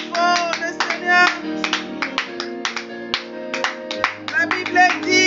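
Congregation clapping in rhythm at a midnight prayer meeting, sharp hand claps layered over sustained music with irregular bursts, loud and close throughout.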